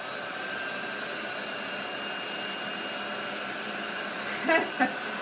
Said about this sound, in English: I'm going to hit this with the heat gun